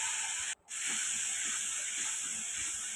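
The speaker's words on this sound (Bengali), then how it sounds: "এবার ওই তেলেই জিরে আর কাঁচা লঙ্কা ফোড়ন দিয়ে দেব" Cumin seeds and green chillies temper in hot oil for village-style kachu shak, giving a loud, steady, close sizzle with one brief dropout near the start.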